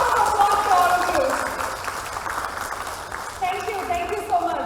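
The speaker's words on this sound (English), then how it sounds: "So let's start with a round of applause for all of you." An audience at a conference keynote applauding, a dense patter of clapping that swells and fades unevenly while voices carry over it.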